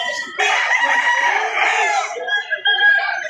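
A Gold-breed rooster at a poultry seller in Lipa City, Batangas crows loudly and close by in one drawn-out call, ending with a few short clucks.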